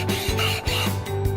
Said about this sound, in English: I demonstrated to the other members of the meeting how I'd been sanding the glass to get it into the right shape